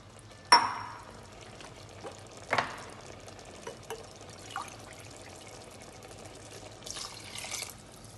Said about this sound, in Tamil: 5 டம்ளர் தண்ணி நான் ஊற்றுவேன்.